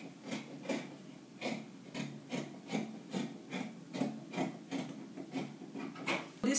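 Scissors snipping through fabric to cut a kaftan neckline, a regular series of soft close crunching cuts repeating about twice per second.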